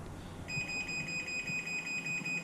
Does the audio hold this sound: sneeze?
no